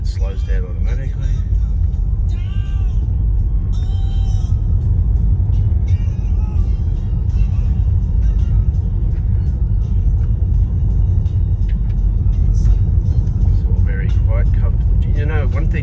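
Electric car driving on a gravel road, heard from inside the cabin as a steady, loud low rumble of tyres on loose stones that runs without a break throughout, while a person talks over it.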